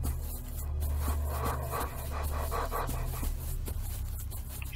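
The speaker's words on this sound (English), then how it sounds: "Why do I hear a dog?" Dog panting and snuffling in a single-player battle royale video game set in a lost city of vampires, close rhythmic breaths over a steady low game ambience, no clear barks.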